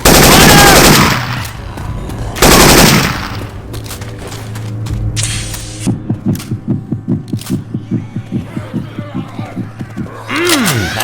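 Syphon Filter weapon sounds swapped into Left 4 Dead 2, loud bursts of gunfire followed by a rapid evenly spaced run of repeated shots, with the game's noise between volleys and no voices.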